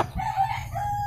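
A brief, close crow from an Aseel chicken, a single drawn-out call with a wavering, slightly broken tone lasting about a second, heard alone with no talk over it.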